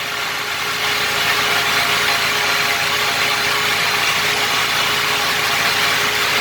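A Massey Ferguson 398 tractor engine runs steadily and loudly, a constant droning hum with a high mechanical whine and no pauses or talk.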